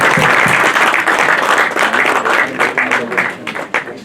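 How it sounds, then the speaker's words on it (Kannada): Loud, dense applause from the audience at a short-film press meet, a thick wall of clapping that thins slightly toward the end, with a little voice underneath. "ಒಂದು ಜೋರಾದ ಚಪ್ಪಾಳೆಯೊಂದಿಗೆ"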